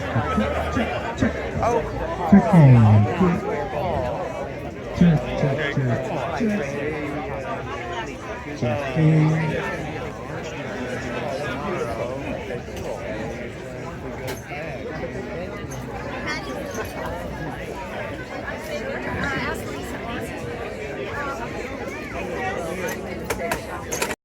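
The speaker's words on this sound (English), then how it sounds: "It's quite the crowd." Many voices overlap in a steady babble at a tribute gathering for neighborhood men, with occasional nearer voices and brief knocks rising above the continuous crowd murmur.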